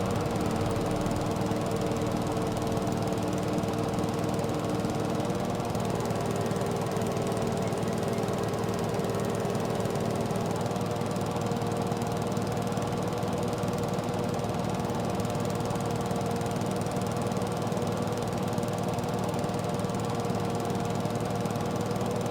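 A tractor engine in a farming video game runs at a steady, throbbing drone with a knocking mechanical rhythm, loud and constant for over twenty seconds without pause or talk.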